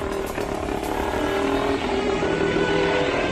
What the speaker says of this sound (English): a pretty cool piece of machinery is this 1931 mono wheel that had a 3-speed gearbox